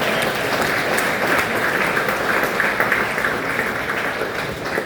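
Steady, dense applause from a comedy club audience in Battle Creek, sustained at an even level for the whole stretch with no voices on top.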